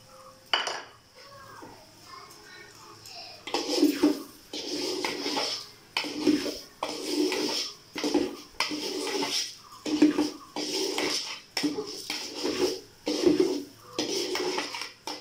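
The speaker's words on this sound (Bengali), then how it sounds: "চালটা কিন্তু ভাজার সময় অনবরত নাড়তে হবে" Rice with crisp fried onions being stirred in a pot for beef biryani, a metal spoon scraping and clinking against the pot in repeated rhythmic bursts, close and fairly loud, with a voice talking at moments.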